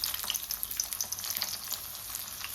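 Bitter gourd slices fry in a small amount of oil, making a crackling, popping sizzle up close with light stirring and no voices.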